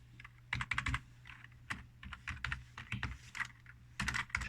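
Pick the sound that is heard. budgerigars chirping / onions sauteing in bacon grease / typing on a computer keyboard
typing on a computer keyboard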